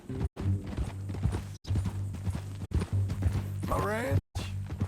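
Horse hooves clip-clop at a steady walking pace in a Western ranch scene from Red Dead Redemption 2, continuous and fairly close under ongoing male conversation and a low music drone.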